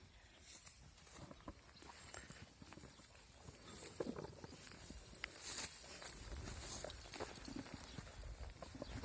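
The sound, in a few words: bullocks pulling plough through potato field, hoofsteps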